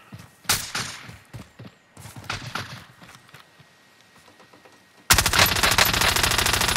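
Rapid bursts of automatic gunfire crackle in a Call of Duty: Warzone match on the Caldera map. Close, scattered shots lead into a dense, sustained volley of fire near the end.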